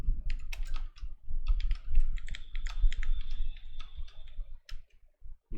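Someone typing on a computer keyboard while writing code, producing quick, close clicks in uneven bursts with brief pauses between runs of keystrokes.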